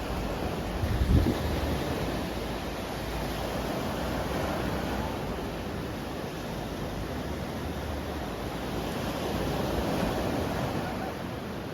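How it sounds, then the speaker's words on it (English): Steady broadband rush of surf washing up and down a beach on Koh Chang, Thailand, continuous and fairly loud, with a soft low thump near the start and no voices. "that is a lot of water moving up and down the beach"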